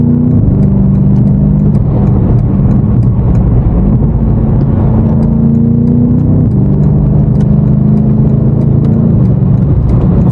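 BMW F90 M5 Competition pulling through city traffic, its engine droning loudly and steadily with a rising rev then a shift and a climb again, a continuous close rumble with faint road noise and no voices.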